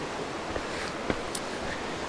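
River flowing beside the Duckabush Trail, a continuous broadband rush of water with a couple of small knocks, steady and fairly close, no talking.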